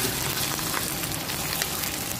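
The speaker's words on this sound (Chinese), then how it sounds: "现在就开始炒。" Meat frying hard in a wok for pilaf, cooked with onions already browned: a dense, continuous, loud sizzle close by, with faint stirring scrapes and no talking.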